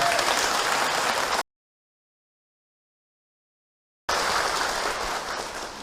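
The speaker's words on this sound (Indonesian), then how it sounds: "Tepuk tangan buat Ibu Ici ya." Studio audience applause on a religious TV talk show, a dense, steady wash of many hands clapping, abruptly cut to silence for a few seconds before resuming at the same level and slowly easing off.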